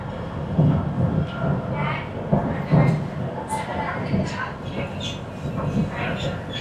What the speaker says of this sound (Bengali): এই ট্রেনটা যেহেতু কুয়ালালামপুর সেন্ট্রাল থেকে বাটুকেভের মাঝে বেশ কয়েকটা স্টেশনে দাঁড়ায়